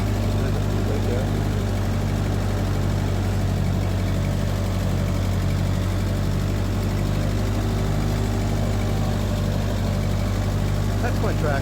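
A 1948 Ford 8N tractor engine idling outdoors, a loud, steady low-pitched chug with an even, regular pulse that runs unbroken throughout.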